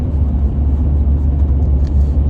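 Car driving and turning off onto a road, heard from inside as a loud, steady low engine and road rumble with no talking.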